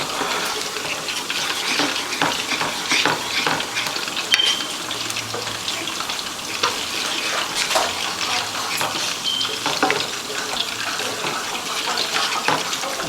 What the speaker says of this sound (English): I'm trying to scrape up the little bits that's in the bottom as well